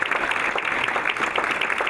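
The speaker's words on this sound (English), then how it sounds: "So let's give our teachers a round of applause." An audience at a school board of education meeting claps for teachers, a dense, steady round of applause heard close and fairly loud for the whole short stretch.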